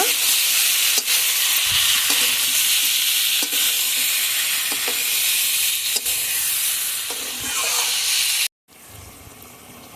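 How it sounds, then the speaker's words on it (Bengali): Fried potatoes and cauliflower sizzle loudly as they are stirred with spices in a hot pan. A steady frying hiss is broken by repeated scraping stirs, with a brief cut near the end. "এখন ভেজে রাখা আলু আর কপি দিয়ে দেব মশলার সঙ্গে ভালোভাবে কষিয়ে নেব"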